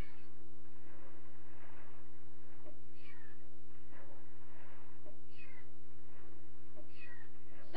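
A Minecraft cat meows several times in the video game, short rising cries spaced a couple of seconds apart over a low, steady background hum.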